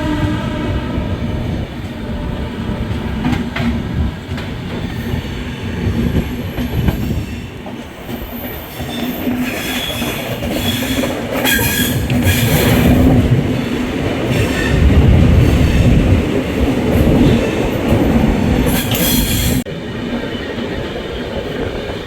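An Intercity express train runs on rails between stations, a loud, steady rumble of wheels with clattering joints, brief squeals and rising and falling roar throughout, no voices.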